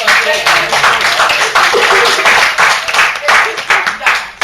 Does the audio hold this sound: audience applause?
yes